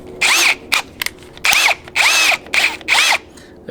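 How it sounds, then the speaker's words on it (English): A power drill bores a pilot hole into a metal ammo can lid, the motor whining in five loud bursts of roughly half a second each, separated by brief pauses and short blips. "So let me get this hole drilled."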